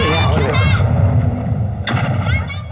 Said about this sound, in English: They're very accurate, these machines that fire the balls, these cannons.